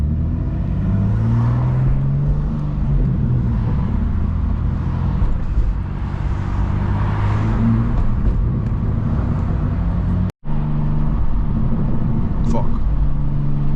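A 600 hp manual BMW G87 M2 at night, its engine rumbling low and close with rising and falling rev swells, a brief dropout partway through, and a voice faintly present.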